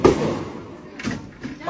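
Gunshots ring out during a street protest in Dhaka in August 2024: a few sharp, loud bangs at uneven intervals, with voices audible in the background.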